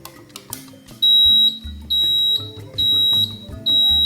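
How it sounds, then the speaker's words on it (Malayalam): A fire alarm panel, triggered from a manual call point, sounds in four loud, sustained high-pitched electronic blasts with short gaps between them, over a low background hum. "ഫയറിൻ്റെ അലാറം ഇവിടെ അടിക്കുന്നുണ്ട്"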